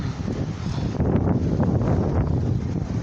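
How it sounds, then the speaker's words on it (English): Strong windstorm gusts buffeting the microphone outdoors, a loud, continuous roaring rush that swells slightly partway through. "This wind is fucking strong!"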